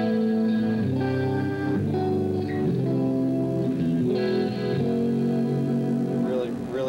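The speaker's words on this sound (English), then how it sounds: "This one is called Echo and Chorus." An electric guitar played through an echo and chorus effect preset on a Lexicon unit at a NAMM booth, sustained shimmering chords and notes that ring and overlap with repeating echoes, fairly loud and alone without talking.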